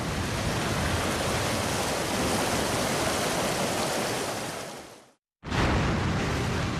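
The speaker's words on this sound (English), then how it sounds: "This bore shows just how much energy is created by the power of gravity and released in a tide." A tidal bore of rushing water surges as a high tide sweeps up a river, a loud, steady broadband roar like a waterfall that tapers off, cuts out briefly, then returns at full force.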